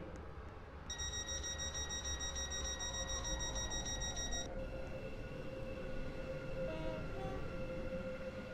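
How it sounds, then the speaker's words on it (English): Commuter train in the Roblox game Stepford County Railway pulling into a terminating platform at Stepford Central, a steady rumbling rail drone with bright tonal whine and a high chime-like ring partway through, no talk. "The train now approaching Platform 13 terminates here."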